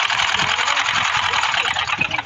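A sewing machine runs steadily, stitching a fatua tunic seam with a fast even whirring hum and a rapid needle rattle throughout, close and alone.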